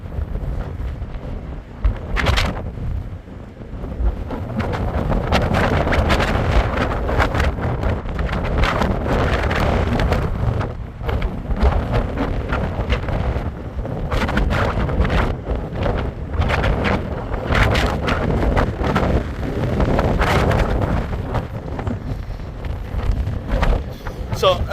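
Strong wind from Storm Isha in Blackpool, on the coast, buffets the microphone in a loud, continuous, gusting roar that swells and dips for the whole stretch.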